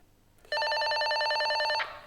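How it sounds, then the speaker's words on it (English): A Motorola TLKR T6 walkie-talkie's call ringtone sounds once, loud, a steady warbling tone holding for over a second before cutting off, close by with nothing else around it. "You can then give that button a press and it then gives out a nice loud ringtone."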